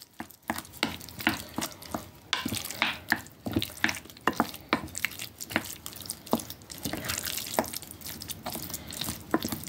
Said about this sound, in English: I'm going to stir those through.